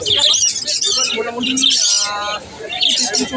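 Cockatiels and other pet birds chirp and call together at a bird fair, a dense overlapping chorus of bright tweets throughout, with a few lower coos mixed in and busy crowd noise underneath.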